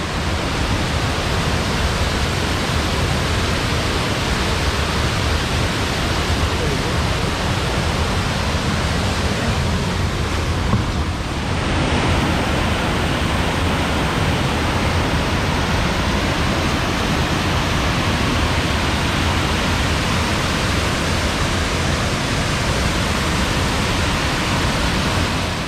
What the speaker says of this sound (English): All right, folks, we're on top of the waterfall now.